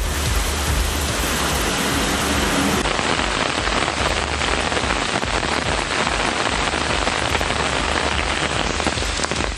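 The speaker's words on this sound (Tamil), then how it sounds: "தருமபுரி மற்றும் அதன் சுற்றுவட்டார பகுதிகளில் 2வது நாளாக மழை பெய்தது." Steady rain falls on surfaces across Dharmapuri and its surrounding area, a dense, continuous hiss of drops that holds at an even, fairly loud level from start to end with no voices.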